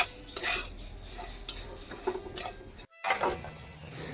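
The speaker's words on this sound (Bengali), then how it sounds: "চিনি আর দুধ খুব ভালোভাবে মেল্ট হয়ে যাওয়া পর্যন্ত আমি এইভাবে নাড়তে থাকবো" Sugar and milk being stirred in a pan with a spoon, soft scraping and clinking strokes close by at low volume, broken by one brief silent gap, with no voices.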